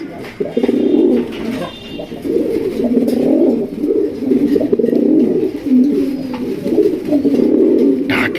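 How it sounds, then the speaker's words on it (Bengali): Several Pakistani teddy pigeons coo steadily and loudly up close, their low throaty calls overlapping in a continuous rolling chorus. "কি শব্দ রে ভাই সেরা সেরা ডাকের জন্য সেরা ডাকের জন্য সেরা রে এটা কি কবুতর ভাই"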